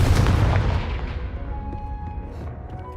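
A booming Confringo spell blast goes off in a Harry Potter Hogwarts video game. It bursts loud and close, then trails off into a fading rumble with a faint ringing tail. No one talks.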